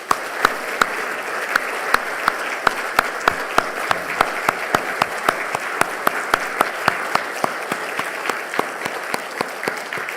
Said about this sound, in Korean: 그 어머니를 생각하면서 어머니께 감사하는 마음으로 박수를 보내드립니다.